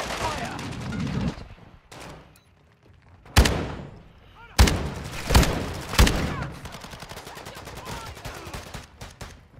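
Bursts of gunfire in the World War II shooter Brothers in Arms, with several sharp loud shots and short volleys over a battle din, while a player talks throughout.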